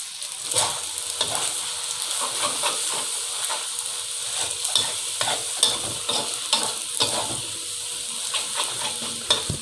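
Noodles stir-fry in a hot pan with sukiyaki sauce, giving a steady loud sizzle and hiss broken by repeated scraping stirs close by.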